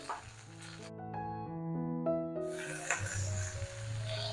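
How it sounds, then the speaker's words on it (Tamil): Mustard seeds, urad dal, curry leaves and cut okra drop into hot oil in a kadai, bursting into a loud, sustained sizzle partway through after a brief tonal passage. "கடாயில் எண்ணெய் விட்டுருந்தோம், காஞ்செடுத்து வெண்டைக்காய் கறிக்கு தாளிச்சிடலாம்"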